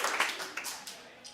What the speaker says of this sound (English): Now give me a round of applause because I'm performing.